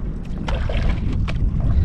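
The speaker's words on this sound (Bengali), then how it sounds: "অন্য একটা নৌকা আসছে আমাদের কাছে" A boat on open water, with water washing against the hull and wind buffeting the microphone, producing a close, continuous rushing sound.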